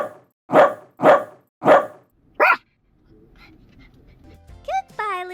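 A puppy in an animated story gives three loud, evenly spaced barks and a higher yelp, then quieter whimpers and soft rustling follow.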